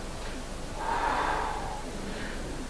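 Breathing during a stretching exercise: a single slow, audible exhale swells and fades over about a second, close to the microphone, against a soft steady background hiss.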